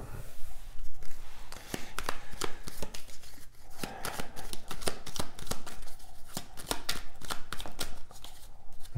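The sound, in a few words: shuffling Belline oracle cards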